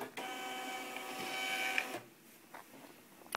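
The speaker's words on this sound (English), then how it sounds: "the labels are gonna come out the printer right here" A Zebra LP 2844 thermal printer prints shipping labels with a close, steady whirring feed lasting about two seconds, then stops, followed by quieter faint mechanical clicks.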